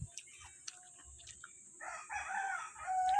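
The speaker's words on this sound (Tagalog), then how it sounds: "Umalis na yung manok." A chicken near fallen tambis fruit makes a few soft, sparse calls at first, then a louder, drawn-out fowl vocalization in the second half, heard close by in a quiet outdoor yard.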